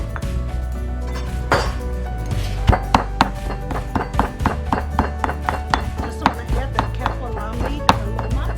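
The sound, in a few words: chopping kaffir lime leaf with garlic and shallot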